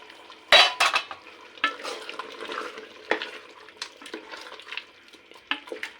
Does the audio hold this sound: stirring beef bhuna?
yes